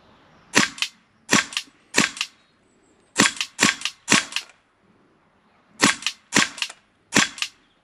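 HK MP7 A1 gas blowback 6mm airsoft gun firing full auto in short bursts of three or four sharp cracks, loud and close, with brief pauses between bursts and no talk.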